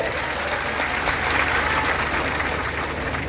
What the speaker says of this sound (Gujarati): અઢારે અઢાર સમાજ તાળીથી વધાવો